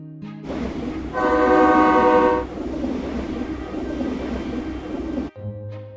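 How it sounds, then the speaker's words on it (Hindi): A train rolls past a railway crossing with a continuous heavy rumble, and a loud multi-tone horn blares for about a second in the middle before the rumble carries on and cuts off abruptly near the end. "ट्रेन चली गई।"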